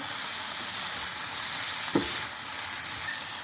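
A chicken and vegetable filling with peri peri sauce sizzles steadily in a pan while being mixed. A single utensil knock sounds partway through, and the hiss then settles slightly quieter.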